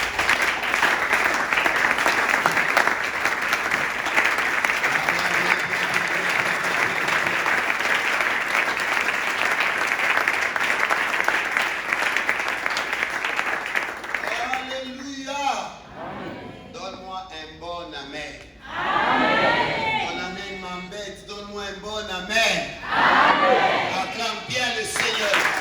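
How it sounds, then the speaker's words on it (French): A church congregation applauds and cheers for Jesus at a service, sustained dense clapping filling the room for about fifteen seconds before a voice starts speaking over the fading applause. "Est-ce que quelqu'un peut acclamer Jésus?"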